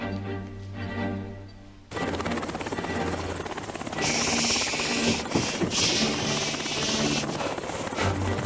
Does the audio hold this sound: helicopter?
yes